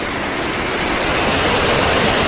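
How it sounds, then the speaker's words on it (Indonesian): Storm scene of strong wind and big waves battering a ship, a dense, steady roar of rushing wind and crashing surf that stays loud and unbroken throughout, with no voices. "Angin kencang dan ombak besar menghantam kapal mereka."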